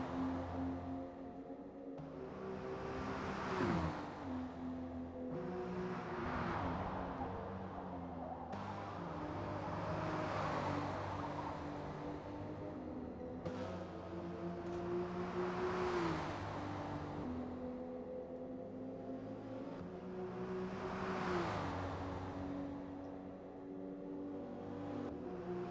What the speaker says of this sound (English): You can hear that roar of the Dodge Viper engine, that 10-cylinder coming up there.